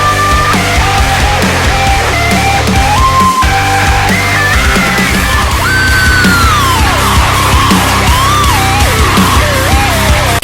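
Synthesized lead lines built from free plugins mimic a soaring guitar solo, not a real instrument, playing loud and continuous with bending, sliding pitches over a busy backing track for about ten seconds.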